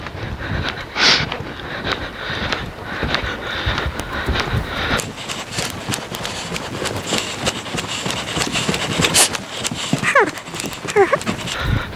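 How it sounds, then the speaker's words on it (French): A horse's hooves strike the ground in a rhythmic clip-clop as the horse moves from a riding warm-up into trot, outdoors with wind noise on the microphone. Occasional faint higher calls sound in the background. "Transition au trot"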